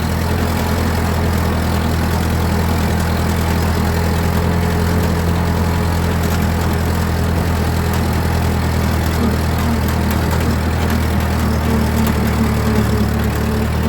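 A vintage Ford 9N/2N/8N tractor engine chugs steadily as the tractor drives a lap around a yard, a loud, close, continuous low rumble with no voices.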